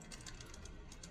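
Computer keyboard typing during a programming session, a quick run of light clicking keystrokes at a steady pace over a low background hum, fairly faint and close.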